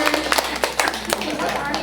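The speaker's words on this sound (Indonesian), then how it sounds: "tepuk tangan teman-teman." Children clap their hands in a school classroom during a Ramadan storytelling session, a brief scattered burst of sharp, uneven claps close by, mixed with faint voices and murmuring in the room.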